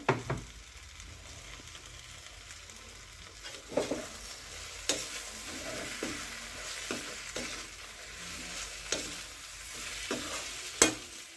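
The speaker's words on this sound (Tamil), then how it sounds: "ரெண்டு பரட்டு பரட்டிட்டு வேர்க்கடலை இடித்ததையும் சேர்த்துக்கிறோம்" Brinjal pepper fry with crushed peanuts stirred in a pan, soft steady sizzling broken by repeated light scrapes and clicks of the spoon against the pan at a relaxed, irregular pace.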